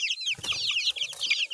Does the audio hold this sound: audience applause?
no